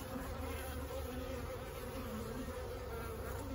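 Honeybees swarm around an open single brood chamber, a dense continuous buzzing hum filling the air close by, steady throughout with no voices.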